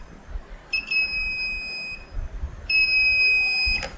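Two steady multimeter continuity-test beeps on a circuit board component, each about a second long, with a short pause between and faint handling clicks at the end.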